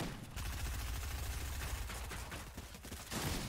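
Rapid gunfire in Fortnite, enemy pistol shots cracking in quick dense succession over busy game noise, loud and continuous for a few seconds.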